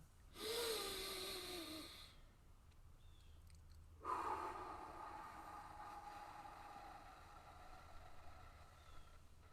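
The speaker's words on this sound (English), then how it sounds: "continue to breathe in through the nose and out through your pursed lips" Slow meditative breathing, drawing in through the nose and blowing out through pursed lips: two long, airy breaths, each lasting a couple of seconds, close and soft with no talking.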